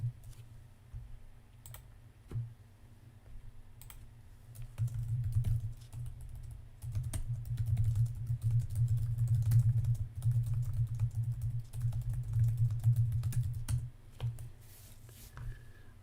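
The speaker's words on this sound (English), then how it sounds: "Actually, Neo, I'm gonna type this out." Steady typing on a computer keyboard, a dense run of quick clicks that swells louder through the middle and eases off near the end, with no talking.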